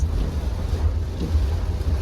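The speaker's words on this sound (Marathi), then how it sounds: "जोरदार तुफान विथ वारा" Strong storm wind with rain roars steadily with heavy low rumbling buffeting, continuous and close, like a gusty storm battering the surroundings.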